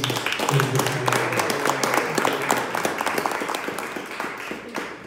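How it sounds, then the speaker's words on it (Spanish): Audience applause honoring a speaker at a Mexican cultural event: dense, steady clapping from a crowd, fairly close and sustained for several seconds, with a voice briefly heard near the start over the clapping. "Un fuerte aplauso para Pedro."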